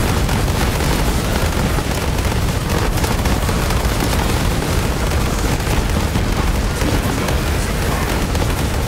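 A grenade explodes in the video game Borderlands 3 amid dense, loud, continuous blasts and booming gunfire chaos, with no pause or talk heard.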